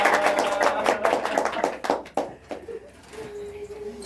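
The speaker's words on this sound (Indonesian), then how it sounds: "tepuk tangan semuanya" A classroom full of students claps together, a burst of sharp, dense hand claps that fades out after a couple of seconds, with faint voices at the end.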